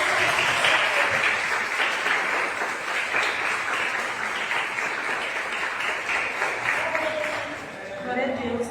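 A church youth-service congregation applauds steadily for several seconds, dense clapping filling the room, with cheers and voices mixed in as it tapers slightly near the end.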